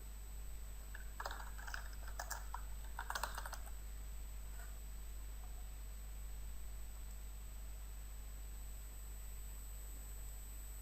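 Someone types an email address and password on a computer keyboard in a few quick bursts of clicky keystrokes near the start. Quiet room hiss and a low hum follow.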